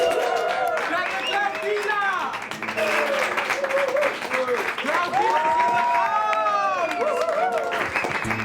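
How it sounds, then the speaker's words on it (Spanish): An audience claps and cheers for a performer at a lively show, a continuous wash of applause mixed with shouting voices and crowd noise, with tonal sounds riding over it. "Un fuerte aplauso para mi hermanita Clau Kila"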